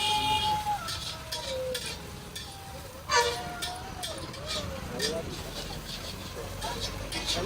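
Vegetables sautéing in a pan for a moong pulao: a soft continuous sizzle with scattered scrapes and one sharper clatter, with a voice present over it.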